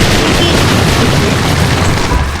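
A loud, dense explosion booms in a zombie-wave video game, a sustained blast of rumbling noise filling the whole stretch.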